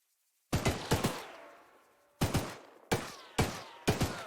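Gunfire in the horror video game Choo-Choo Charles: loud close shots in short bursts of two or three with pauses between, each crack trailing off in a long echoing decay, no talk.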